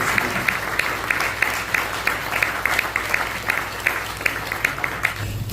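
A congregation claps steadily and warmly throughout at a Korean church thanksgiving service for a pastor's retirement and installation, with dense, continuous applause and no speech.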